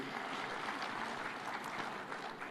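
Applause at a devolution conference in Homa Bay County, Kenya, a steady, fairly distant wash of clapping from the audience that holds evenly throughout with no voices standing out.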